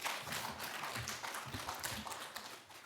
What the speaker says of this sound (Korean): 박수로 우리 환영할까요?